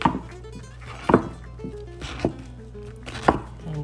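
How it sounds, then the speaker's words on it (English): A knife roughly chops portobello mushrooms on a cutting board in about five separate, irregularly spaced thunks, close and clear, with no talk. "Let's begin by roughly chopping these up"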